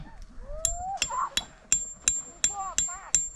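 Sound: hammering tent pegs while camping

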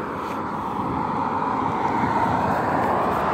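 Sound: airplane flying overhead

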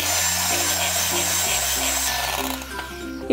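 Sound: electric mixer beating mango and whipping cream

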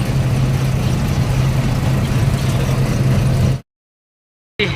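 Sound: tractor approaching

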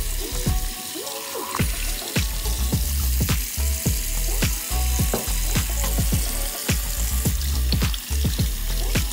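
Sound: rinsing rocks under running water in a sink

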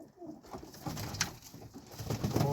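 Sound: pigeons cooing

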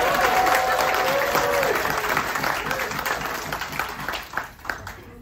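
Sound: passengers applauding

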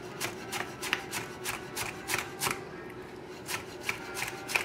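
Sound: knife chopping vegetables into small brunoise

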